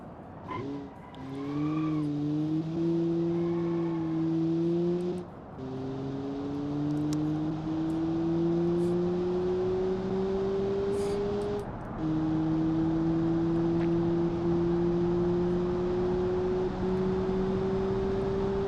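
Simulated car engine in the BeamNG Drive driving game, revving up through gears with a steady rising drone, brief drops at shifts, then holding a long sustained high-revving note; clear and close, no talking.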